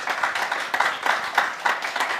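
Audience clapping at a farewell event for a girls' U19 volleyball championship, a steady patter of hands with rhythmic surges, moderately loud and close.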